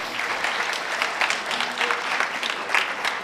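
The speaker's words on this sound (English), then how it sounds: "A big round of applause for sir." Applause from a symposium audience on gut health and lifestyle disorders, a steady, dense clapping from many hands filling the room for a few seconds without speech.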